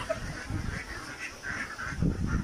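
An itik duck being chased and caught lets out repeated harsh, honking quacks that rise and fall close by, over rustling and scuffling movement with no talking.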